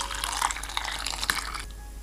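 Crayfish bisque base straining through a fine sieve, close wet dripping and trickling with scattered small drops, steady and fairly quiet with no talk.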